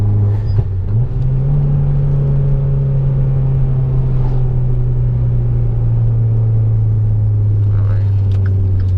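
Dodge Dart with a 1.4L turbo engine driving, heard from inside the cabin as a loud, constant low engine drone and road rumble, with a brief shift in engine pitch near the start.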